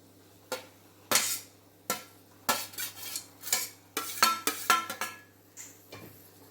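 Grated fresh coconut being stirred in a pan for patholi, with a series of distinct metal spoon scrapes and clinks in uneven bursts, close and clear over a faint background hum.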